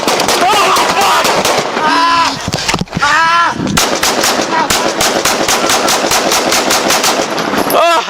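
Rapid bursts of gunfire crack out during a police foot pursuit of a vehicle theft suspect, loud and close, with shouting voices between and over the shots.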